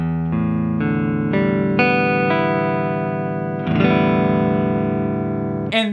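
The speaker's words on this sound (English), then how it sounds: "So standard tuning of a guitar sounds like this." Open strings of a guitar in standard tuning strummed several times in sequence with each new strum layering into a sustained, effect-processed ringing chord, loud and close, ending with a brief scrape.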